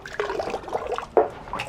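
Water runs through a collapsible pipe into a narrowboat's tank, a soft gurgling, splashing flow with a brief louder surge partway through, heard close and alone.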